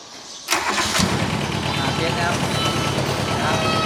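A Kubota SR-J3 combine harvester's engine cranks and fires, then settles into a loud, steady, rumbling idle close by, with someone talking over it.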